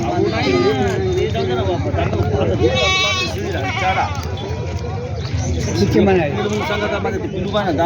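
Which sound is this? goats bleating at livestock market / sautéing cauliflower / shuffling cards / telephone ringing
goats bleating at livestock market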